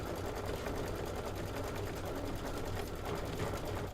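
Sewing machine chain stitching quilt pieces in pairs, a fast continuous mechanical whir with rapid needle ticking, steady and close without pause.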